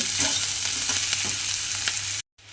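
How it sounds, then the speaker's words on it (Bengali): Sliced onion and green chilli sizzle together in hot oil in a pan, a bright steady crackle with faint stirring taps before a sudden brief cutout. "দিয়ে একসঙ্গে পেঁয়াজ আর কাঁচা লঙ্কাটা প্রথমে খুব ভালোভাবে ভেজে নেব"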